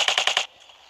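Rapid burst of five or so gunshots from a Roblox Jailbreak game weapon, sharp and evenly spaced, then cutting off into quiet.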